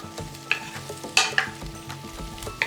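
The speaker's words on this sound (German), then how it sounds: "jetzt noch den Spargel dazugeben und kurz vermischen" Asparagus being stirred into lightly browned sautéed onions in a pan for asparagus risotto: repeated scraping and clattering stir strokes over a soft sizzle, close and fairly loud, with no voices.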